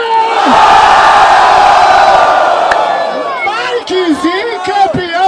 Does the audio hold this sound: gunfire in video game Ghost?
no